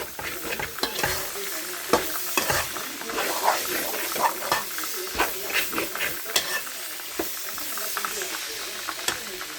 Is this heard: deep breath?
no